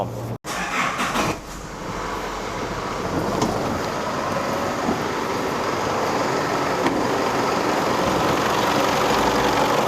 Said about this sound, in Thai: เดี๋ยวเรามาดูกันว่าเครื่องยนต์รถคันนี้เป็นอย่างไรบ้าง